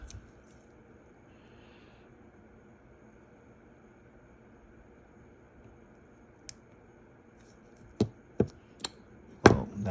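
Godhand nippers cut a plastic part in a quiet room. After a long near-silence, one crisp snip comes, then a quick cluster of four sharp, close clicks near the end.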